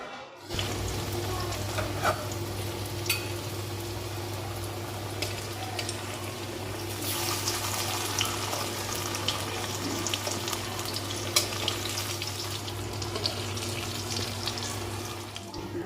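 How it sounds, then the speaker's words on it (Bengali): Raw green banana pieces fry in hot oil in a wok, giving a steady, dense sizzle that holds at an even level from start to finish, close and alone without talk. "এবার কাঁচকলার পিসগুলোকে ভেজে নিচ্ছে"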